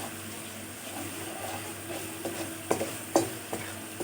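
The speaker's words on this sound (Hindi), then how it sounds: "इसको थोड़ी देर के लिए फ्राई करना है" Food frying in a pan while aloo bharta is made, a quiet sizzle with a few sharp scraping and tapping stirs toward the end.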